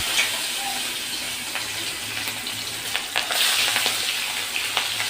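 Tangra fish frying in hot oil in a kadai: a dense, continuous sizzle with scattered sharp crackles and pops throughout, close and fairly loud, with no voices.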